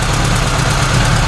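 An engine fitted with a single carburetor idles steadily after a cold start, a loud, close, continuous rumble with an even pulsing beat, no other sounds.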